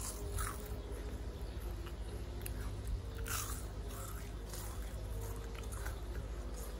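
Crunchy, oily fried food that tastes a little like seaweed being chewed close up, giving repeated soft crunches and bites over steady low background noise.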